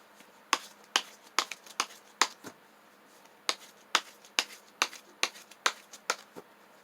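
Tarot cards being shuffled and drawn at a reading table, giving a steady series of crisp, close slaps and snaps, roughly a dozen sharp taps spaced evenly with brief pauses, with no talking.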